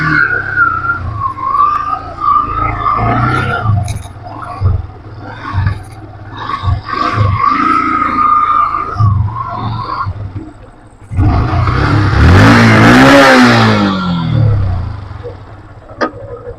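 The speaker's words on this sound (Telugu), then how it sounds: "ఇంజన్ సౌండ్ కూడా స్మూత్ ఉన్నది" 2014 Yamaha FZ BS3 motorcycle engine idling with uneven throttle blips, then a loud revving burst that rises and falls before settling again, close to the bike.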